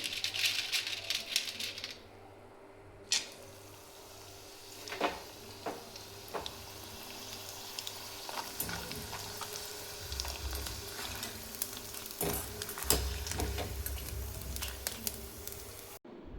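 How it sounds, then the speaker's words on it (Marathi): Sun-dried puffed fasting snack pieces frying in hot oil, a steady close crackle and sizzle with scattered sharp pops and clinks, swelling louder toward the end. "तळून घ्यायचे. तेल गरम झालेले."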